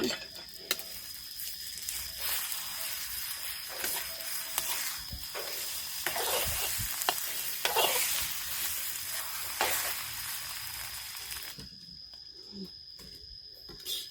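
An egg with chili fries in a little oil, making a close, crackly sizzle that fades out near the end, with occasional scraping and clicking of a utensil.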